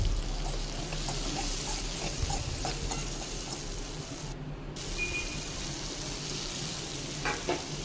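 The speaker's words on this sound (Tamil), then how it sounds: "இதையும் நல்லா வதக்கி விட்டுறலாம்." Steady, close sizzle of tomatoes and fennel sautéing in a hot pan for an egg kurma, a continuous crackling frying hiss with occasional stirring and no talk.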